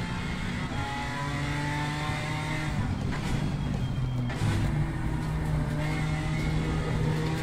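In the racing game Assetto Corsa Competizione, a BMW M4 GT4 engine drones loudly and steadily, its pitch dropping in stepped downshifts with revving blips between gears.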